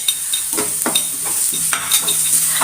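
Chopped green chillies sauté in a hot pan with a steady, close sizzle, broken by a few scraping stirs of a spatula.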